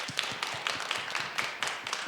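Church congregation clapping for the worship band at a Sunday afternoon praise service, a steady run of roughly ten sharp hand claps at a moderate, fairly even pace, with no voices over them.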